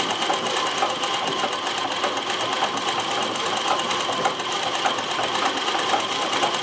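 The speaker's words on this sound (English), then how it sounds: "sewing with manual zigzag like this" A Consew CN2053R-1A sewing machine mounted in a treadle table, stitching zigzag at a steady clip, with a continuous, close mechanical rattle and rhythmic needle ticking.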